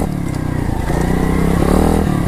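A pit bike engine revs hard and steady, shifting from first to second gear with a brief dip in pitch before pulling loudly again, close and continuous with no talk.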